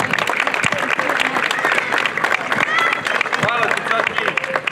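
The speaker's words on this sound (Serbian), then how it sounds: "veliki aplauz za njega" Audience applause at an outdoor tournament in Trnovče, Serbia, honouring a sponsor; dense clapping fills the clip at close range, with crowd voices and chatter mixed through it.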